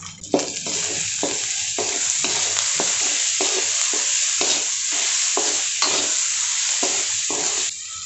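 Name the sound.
onion sautéing in a pan with salt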